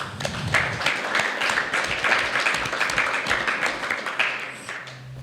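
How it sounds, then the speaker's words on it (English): Audience applause at a talk on veganism, a moderate burst of many hands clapping with sharp individual claps standing out, steady across the few seconds before tapering slightly. "Let's give a round of applause."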